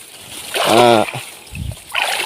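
Water splashing in a stream while a bubu fish trap is being set, a couple of close splashes and sloshes with a voice speaking between them.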